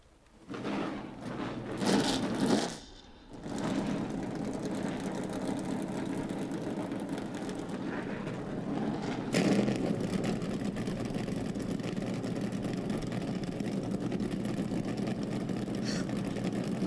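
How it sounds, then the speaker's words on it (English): Several 900-horsepower V8 race car engines of the Trans Am Series fire up, with a few loud revs at first and then a steady, continuous rumbling idle from the field of cars. "Those massive 900 horsepower V8s coming to life."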